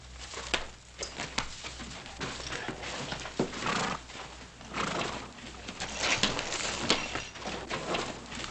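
A horse clip-clops and whinnies repeatedly at close range in an Old West town setting, with sharp hoof strikes and neighs spread across the scene.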